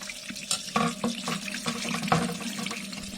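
Water runs and splashes steadily into a toilet cistern, a rushing fill sound with a few small knocks, fairly close and alone.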